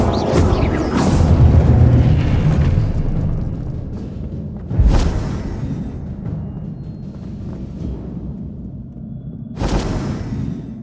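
Incendio fire spells cast in Hogwarts Legacy: three loud whooshing bursts, one early, one near the middle and one near the end, each flaring over a steady low rumble of game ambience.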